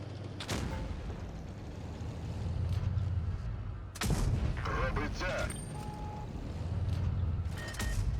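Deep booming cannon shots from the Astron Rex tank in World of Tanks Blitz ring out, two loud blasts over a rumbling engine drone.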